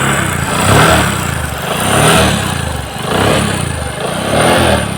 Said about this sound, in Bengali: আমাদের ডিসকভার একশো পঁচিশ সিসির বাইকটা এটার সাউন্ডটা কত সুন্দর হয়েছে